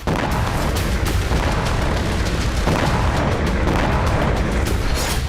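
Explosions in Crimea from Ukrainian ATACMS strikes, heard as a continuous loud roaring rumble with repeated heavy booming bursts throughout.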